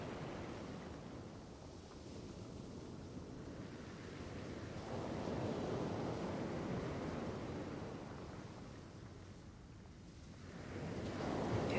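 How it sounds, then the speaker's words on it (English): Calm ocean waves wash onto a shore, a soft, faint hiss of surf that swells and recedes slowly in gentle surges, with no voices. "just listen to the calm waves"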